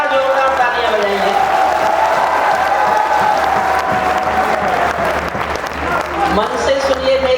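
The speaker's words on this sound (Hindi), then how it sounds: "एक बार जोरदार तालियां बजाइए।" A crowd at a Hindi poetry recital in Delhi claps vigorously, steady applause with some cheering and faint voices mixed under it throughout.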